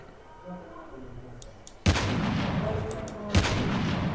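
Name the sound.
sniper rifle gunfire in Call of Duty Mobile video game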